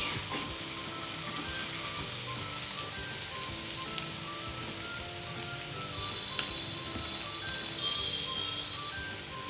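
Fish sizzles steadily in hot oil in a pan, a continuous crackling hiss with occasional small pops and faint clinks, close and fairly quiet.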